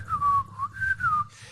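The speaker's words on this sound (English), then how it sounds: "hey, you shouldn't whistle" A person whistles a short wavering tune, the single clear tone sliding down, pausing briefly, then rising again over faint low background noise, close and alone.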